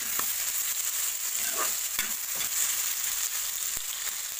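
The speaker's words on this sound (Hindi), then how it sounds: "थोड़ा सा इसको हम भून लेंगे।" Apple pieces fry in a pan for apple halwa, giving a steady close sizzle with a few soft stirring scrapes and no voices.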